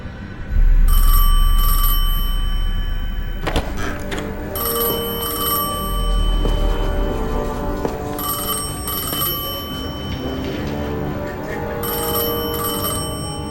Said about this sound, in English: I felt the ringing more than I heard it.